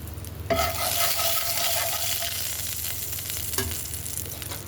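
Bengali five-spice seeds (panch phoron) drop into hot oil in a kadai and burst into a loud, close sizzle that settles into a steady frying hiss, with a brief clink near the end.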